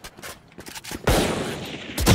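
Rapid gunfire bursts from a gun in the shooter game Valorant, a few scattered shots followed by a sustained loud volley and a final burst, with no talking over it.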